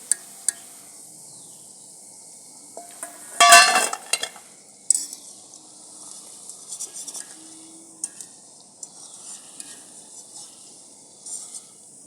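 Jaggery-coated shakarpare frying in a kadhai while being stirred, scattered metal scrapes and clinks with a burst of louder stirring and sizzle, then quieter intermittent scraping over a faint hiss.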